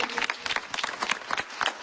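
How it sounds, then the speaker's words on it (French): A theatre audience claps as the stage curtain opens, uneven bursts of applause rising and falling with sharp, separate claps standing out close by. "le rideau va s'ouvrir, j'espère, sous vos applaudissements"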